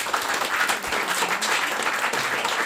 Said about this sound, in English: Round of applause to them as well.